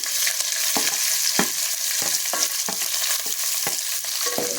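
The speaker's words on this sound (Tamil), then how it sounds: "நல்லா பொன்னிறமாக நல்லா வதக்கிக்கோங்க" Onions sautéing with ginger and garlic in a pan, a steady close sizzle broken by regular scraping stirs of the spatula, with no talking.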